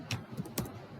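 A few quick keystrokes on a computer keyboard, light close taps in a short burst with no talking.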